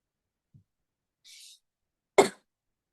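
After a soft breathy sound, a single sharp cough bursts out close by in an otherwise quiet room.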